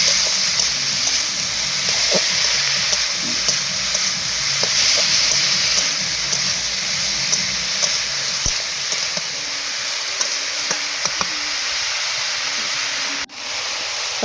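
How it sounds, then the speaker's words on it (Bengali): Vegetables being poured into a pan and stirred while cooking a Bengali fish chorchori, giving a steady loud sizzle and hiss throughout with faint scraping clicks of the stirring spoon. "সবজিগুলো ঢেলে দিয়ে কিন্তু একটু নাড়াচাড়া করব"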